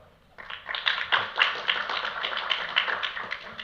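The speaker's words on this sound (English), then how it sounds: "Let's give Will a round of applause." Clapping from a conference audience welcoming a speaker to the main stage, a brief burst of many hands that swells quickly and holds steady.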